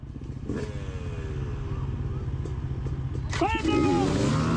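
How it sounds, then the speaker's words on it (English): A 4-stroke dirt bike idles and rumbles steadily at the start of a sandy hare scramble race, its engine close and continuous, with a rider's voice talking over it. "I twisted the gas way too quickly, didn't let the engine catch, and the 4-stroke flamed it out"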